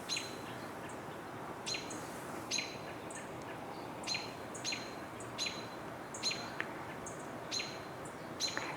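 Several American robins call from nearby outdoors, sharp high chirps and tweets repeating in short bursts every second or so over a steady wash of background noise.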